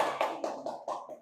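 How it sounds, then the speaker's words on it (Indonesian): A classroom audience claps briefly for a student presentation, a handful of quick rhythmic hand claps, close and fairly loud, with no talking. "Sudah, beri tepuk tangannya."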